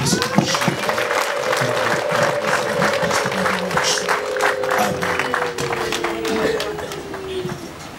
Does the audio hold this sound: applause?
yes